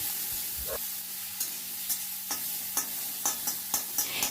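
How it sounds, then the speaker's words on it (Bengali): Grated onion frying in a pan, a soft steady sizzle broken by repeated scraping stirs at a regular pace, close and clear with no voices. "দিয়ে একটু নাড়াচাড়া করে নিচ্ছি"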